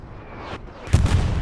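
Explosions in the war video game Hell Let Loose on the Remagen map, a rising whoosh followed by a loud, close boom with a rumbling tail, alone with no talk.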